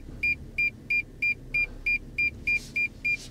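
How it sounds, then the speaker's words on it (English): A 2023 Toyota Tundra parking sensor beeps steadily from inside the cab, about a dozen evenly spaced, clear electronic tones repeating roughly three times per second over a low engine idle. "reverse out here to get rid of that annoying beep"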